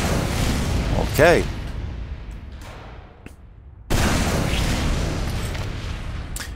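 Rocket explosions in the video game Team Fortress 2: a sudden loud blast erupts midway and rolls on as a dense roar, following a noisier stretch with a short spoken word.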